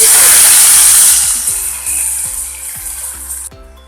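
A loud oil tempering of mustard seeds, fenugreek and curry leaves sizzles hard as it is poured into a Kerala sardine curry with raw mango, a bright hiss that fades into softer crackling and a few clinks of a utensil.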